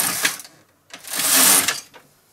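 A knitting machine carriage knitting two rows while making a hat, giving two mechanical sliding, whirring passes with a short pause between them, close and fairly loud.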